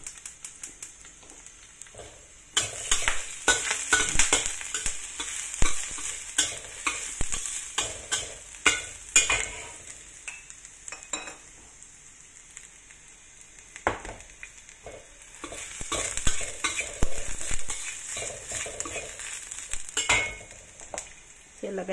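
Garlic sizzles in hot oil in a pan while a utensil scrapes and stirs in bursts, loud close frying swelling and fading over quiet stretches, no talking.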